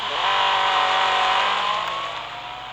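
A 2013 Ferrari 458 Spider in Real Racing 3 revs hard and close, its engine note holding steady and climbing slightly before easing off toward the end, with no talking.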